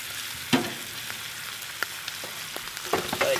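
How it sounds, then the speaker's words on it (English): A sous vide pork chop sears in a hot pan with melted butter and rosemary, giving a steady close sizzle and crackle with a few sharp pops and spatters. "we're gonna go in with 2 tablespoons of butter and some rosemary while we sear this other side"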